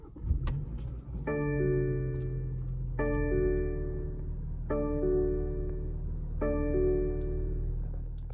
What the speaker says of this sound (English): What you were hearing there was a 2-liter 4-cylinder turbo that produces 248 horsepower